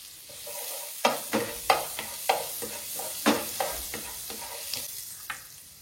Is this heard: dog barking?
no